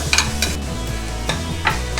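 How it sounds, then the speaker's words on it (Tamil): Grated carrots stirred while frying in hot ghee for carrot halwa, a steady close sizzle under a low hum with a few scraping stirs of the spoon. "கேரட் வந்து லைட்டாக ஃப்ரை பண்ணிக்கணும்."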